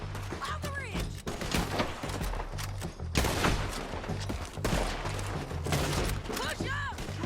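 Gunfire crackles through a Red Dead Redemption 2 shootout against an enemy on a ridge, with dense volleys of rifle and pistol shots stacked close together and a few louder blasts, under shouting voices.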